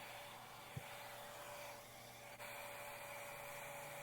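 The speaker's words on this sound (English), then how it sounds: "You also want to make sure you angle the blow dryer down so that it's smoothing the cuticle" A handheld hair blow dryer runs steadily during a salon-style blowout, a constant close whooshing hum with a faint whine, broken only by a brief knock and a small shift in tone partway through.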